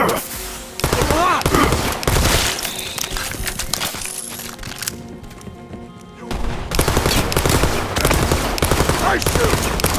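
Rapid bursts of gunfire from weapons in the video game Borderlands 3, loud dense volleys of shots with a brief lull in the middle before the firing resumes, heavy and close throughout.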